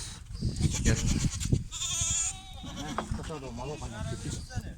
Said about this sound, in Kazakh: Мұна Торлының текесі мұнау